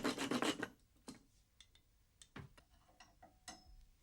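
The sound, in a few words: sawing on chest expanders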